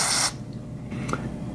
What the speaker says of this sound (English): I'm going to spray the inside of this with contact cleaner.